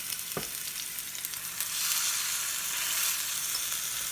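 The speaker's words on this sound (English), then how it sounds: "we're just going to cook them on both sides until they are all the way done" Food fries in extra virgin olive oil in a cast iron skillet, a steady close hissing sizzle that grows louder partway through, with a brief clack of a utensil near the start and no talking.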